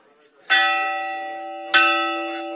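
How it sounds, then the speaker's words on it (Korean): A church bell in a small Spanish town rings out with two resonant strikes, about a second apart. Each strike is loud and close, with a long, shimmering decay and no voices. "교회종을 처음 쳐보는"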